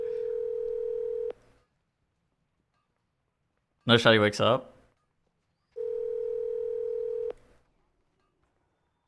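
A phone call ringing through twice, a steady electronic ringback tone repeating with a gap, while someone speaks briefly in between the two rings.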